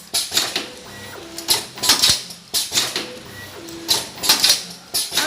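A metal zipper open-end cutting machine cuts zippers with long pullers, producing repeating clusters of sharp mechanical clacks and snaps in a steady cycle of about two seconds, with faint whirring between the strikes.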